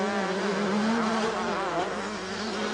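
A racing motorcycle engine at a road race in Killinchy, 1989, revs hard as it powers out of a corner, a steady high buzzing drone with wavering pitch held at constant loudness throughout.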